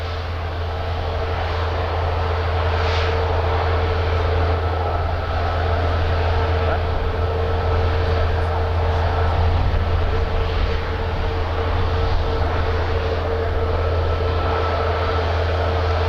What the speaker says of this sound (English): There's an A320 coming in from Yao, but we're having a look at Qatar right now.